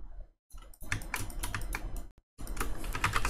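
Quick bursts of keystrokes on a computer keyboard while entering a command in drafting software, close and crisp, broken by two brief silent pauses.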